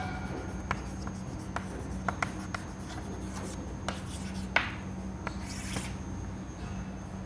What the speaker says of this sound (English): I can write down first my dimensional equations